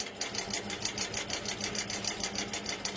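A longarm quilting sewing machine runs steadily with a fast, even rhythmic stitching pulse, heard alone at a moderate level, as from a room away.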